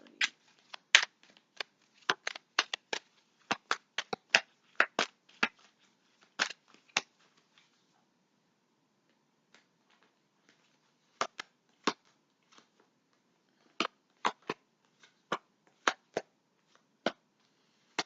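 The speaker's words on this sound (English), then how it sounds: "let's pull a couple cards for that" Tarot cards are shuffled in quiet bursts of crisp, snappy riffles and taps, close by and alone. A short lull falls in the middle before the card clicks resume.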